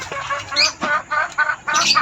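Chickens at a poultry breeding farm clucking in short, irregular bursts, fairly close and clear, with no talk over them.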